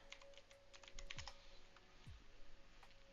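Typing on a computer keyboard: a quick run of light, crisp key clicks, fairly faint and close, with no voices over it.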